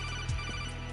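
Phone call ringing in Metal Gear Solid 2: Sons of Liberty, a faint electronic ring tone with a steady low hum beneath it, lasting about a second and heard alone.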